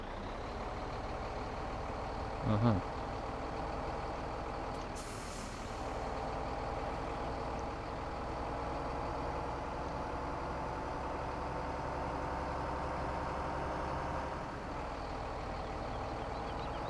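A low-loader truck engine in Landwirtschafts Simulator 17 rumbles steadily for the whole stretch, with a brief air-brake hiss early on and a short clunk, the drone holding even and close throughout.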